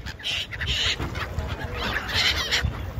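A flock of birds being fed grain at the Sangam keeps up a steady run of honking, squawking and clucking calls at moderate distance, with no clear talking.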